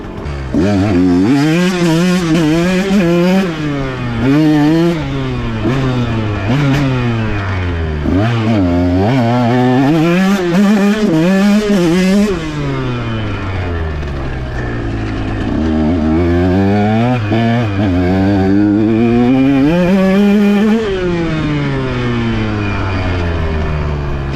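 A 2023 KTM Husqvarna 125 motorcycle with a remapped ECU revs loudly and close by, its engine pitch climbing and falling in repeated sweeps as it accelerates and shifts through the gears. No one speaks.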